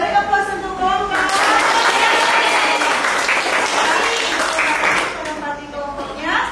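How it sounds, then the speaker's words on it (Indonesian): A classroom of ninth-grade physics students in Indonesia applauds a student group, with steady clapping filling several seconds before it tapers off, with voices mixed in. "Beri aplaus untuk kelompok"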